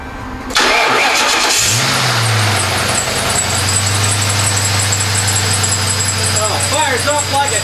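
Engine of a P71 Crown Victoria Police Interceptor cranking briefly and then catching, settling into a steady, close idle with a low rumble; a person talks over the running engine.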